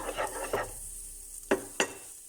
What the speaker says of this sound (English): So we'll melt our butter.